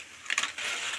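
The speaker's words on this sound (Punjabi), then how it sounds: "ਆ ਰਹੀ ਹੈ ਨਾ ਖੜਕਣ ਦੀ ਆਵਾਜ਼ ਇਹਦਾ ਮਤਲਬ ਹੈ ਕਿ ਸਾਡੇ ਚਿਪਸ ਜਿਹੜੇ ਆ ਬਹੁਤ ਵਧੀਆ ਬਣੇ ਆ" Crisp, dry rattling and crunching of fried chips being shaken, a short clattery burst followed by a softer continuous rustle.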